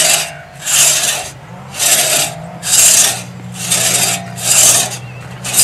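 A hand saw rasps through poplar wood in steady back-and-forth strokes, about seven loud pulls with short gaps between them, close up, during tree felling.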